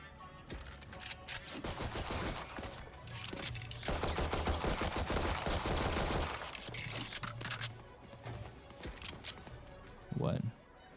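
Gunfire in Valorant comes as bursts of rapid automatic shots, with a long heavy stretch in the middle and shorter bursts either side, mixed with a voice speaking.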